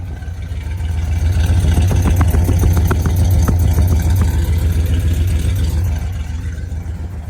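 A 1968 Dodge Charger R/T V8 idling steadily with a deep, rumbling low burble, loud and close, swelling slightly in the middle then settling, with no talking over it.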